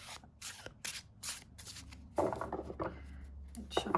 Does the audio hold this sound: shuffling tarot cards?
yes